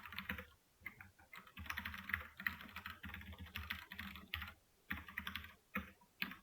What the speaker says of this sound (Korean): 이거는 타이핑을 하죠.